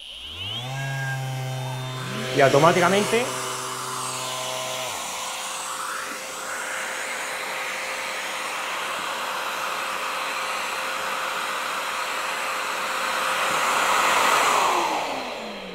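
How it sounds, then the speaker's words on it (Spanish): An orbital sander motor hums with a rising whine, then a Bosch vacuum cleaner, switched on automatically by the sander's vibration, takes over with a steady rushing roar that swells slightly near the end. A voice speaks briefly. "cuando activamos nuestra máquina, detecta las vibraciones y pone en funcionamiento el aspirador"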